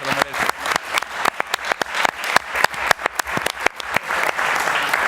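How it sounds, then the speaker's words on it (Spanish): An audience claps at the close of a debate, a burst of many hands beating fast and uneven, close and full, thinning slightly before swelling again toward the end. "le diéramos un aplauso a Eduardo"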